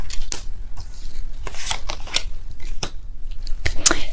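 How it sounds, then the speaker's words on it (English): Tarot cards shuffled by hand during a reading, a series of brisk riffling and slapping bursts, close and fairly loud, with no talking over them. "I will be pulling all the cards."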